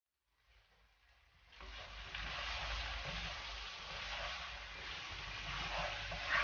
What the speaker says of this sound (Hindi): और गोश्त को हम अब अच्छी तरह भून लेंगे।